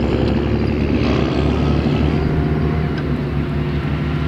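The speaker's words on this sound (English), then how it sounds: "Just while they warm up their engines" Alvis armoured fighting vehicles idle and warm up their engines at an outdoor military vehicle show arena, a steady loud low rumble with a droning throb that holds evenly throughout.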